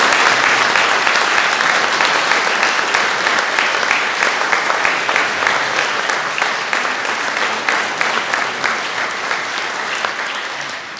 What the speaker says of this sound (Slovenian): Predlagam še en velik aplavz za moški pevski zbor.